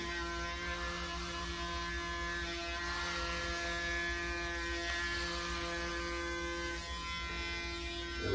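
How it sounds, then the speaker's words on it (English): A Braun Series 9 9477cc electric shaver shaving an oiled face, giving a steady, close, loud motor buzz that drones on without a break and has no talking over it. "that electric shave and the amount of oil that I put on here"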